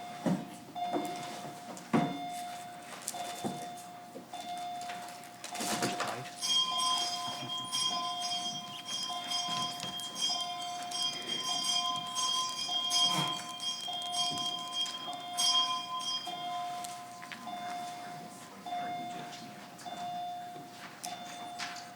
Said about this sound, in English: Sergeant at Arms, you may ring the bell.